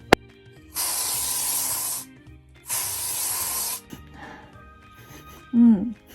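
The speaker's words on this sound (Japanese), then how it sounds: "消臭力のスプレーをちょっと使ってみたいと思います。" Shōshūriki deodorizer aerosol fires in two close, hissing bursts of about a second each, with a short pause between, followed by quieter rustling and a brief voice.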